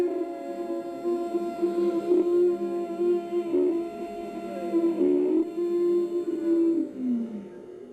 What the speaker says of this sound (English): when you would be tightening your throat while taking in your breath, there will be a kind of sound like this.